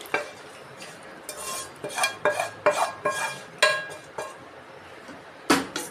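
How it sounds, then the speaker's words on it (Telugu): Tempering being added and stirred into mango dal in a vessel: a series of clattering metal knocks and scrapes, roughly a dozen irregular strikes of a spoon against a pot, close and distinct over a faint background. "ఇప్పుడు దీంట్లో మనం పోపు వేసేసుకుందాం"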